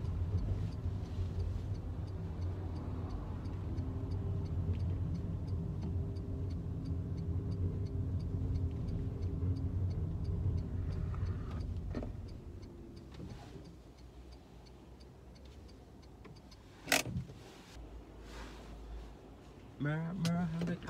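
A car's turn signal ticks steadily at a junction with traffic lights, the regular clicks faint and even over a low engine and road hum, with a short louder knock near the end.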